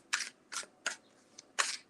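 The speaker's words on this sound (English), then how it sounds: "Let me just shuffle up a little bit." Tarot cards being shuffled by hand, four or five quick papery riffling bursts in an irregular rhythm, close and moderately loud with no talking.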